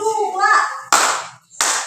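During a hand-clapping ice-breaking game, a voice is heard briefly, then a group gives two loud, crisp bursts of clapping in quick succession, close by.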